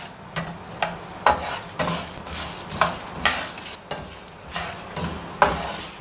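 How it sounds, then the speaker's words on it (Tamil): Coriander, cumin and fennel seeds dry-roast in a pan with sharp, scattered crackles and periodic scraping stirs, close and fairly quiet, with no voices. "சட சடன்னு பொரியிற சத்தம் வரும்."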